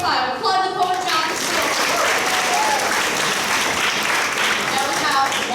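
An audience at a grade 9/10 spoken-word poetry event breaks into loud, dense applause for a poet, sustained at an even level with a voice speaking over it at the start.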